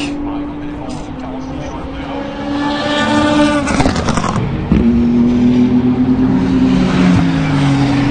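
Ferrari GT3 race cars at the 2024 Le Mans 24 Hours free practice session: loud, high-revving engine notes sweep past up close, and one car's pitch drops sharply as it goes by before another engine's tone takes over.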